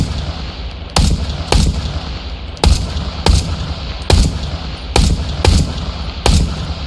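Pistol shots fired in the VR shooter Into the Radius 2, about ten sharp reports spaced irregularly roughly half a second to a second apart, loud and close over a steady low ambient hum.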